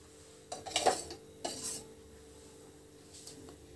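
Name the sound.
ghee being added to a hot kadhai for ginger paste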